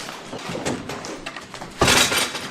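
Broken glass crunches and clinks underfoot on the floor of an abandoned building in a deserted village in the woods, with scattered gritty steps and a louder crunching burst near the end.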